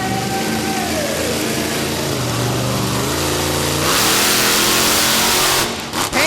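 Monster truck engine roaring and revving hard during a wheelie attempt at an Evansville, Indiana arena show, loud and close, with rising pitch sweeps, a surge of louder noise midway and a sharp cutoff near the end.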